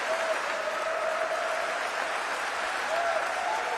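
An audience claps steadily, a dense continuous wash of applause at an even level throughout.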